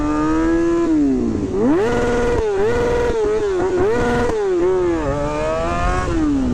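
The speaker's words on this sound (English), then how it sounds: "I'm sure you guys want to see me do a wheelie too. Do a coaster." A motorcycle engine revs hard through a wheelie and coaster stunt, rising and falling in pitch over several throttle bursts, loud and close, with no talking over it.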